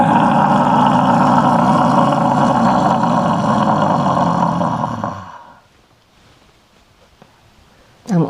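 A person imitates a dragon roar with the voice, a loud, sustained growling rumble lasting about five seconds before cutting off to near silence at an old stone castle site.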